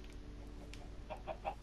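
Chicken clucking in the Minecraft video game, a few short soft clucks near the end over a steady low hum.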